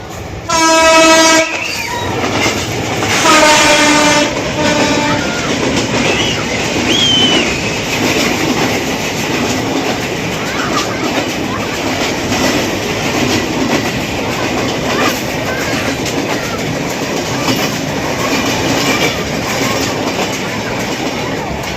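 A train passing close by, opening with loud horn blasts and then a steady rumble and clatter of rail cars rolling past, with voices briefly in the background.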